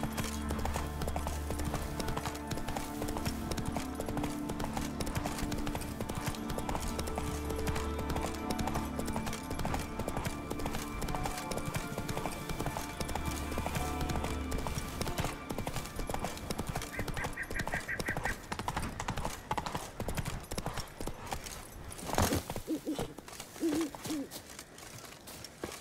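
A horse's hooves clip-clop in a steady, even rhythm through The Witcher 3, close and clear over a low game music bed, with a brief louder rustle or movement near the end.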